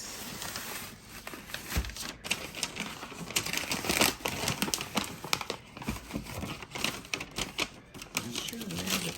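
Paper crinkles and rustles in dense, irregular bursts while a box of Christian Louboutin "Lock Me Up" pump heels is unpacked, close and steady, with a voice murmuring now and then.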